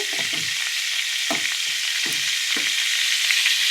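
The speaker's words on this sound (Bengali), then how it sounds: "এখন ভাজবো, সবজিগুলো ভালো করে একটা একটা করে ভাজবো" Vegetables frying in a kadai, dhaba style, hiss in a constant dense sizzle, with a few low knocks and thuds from a spatula near the start.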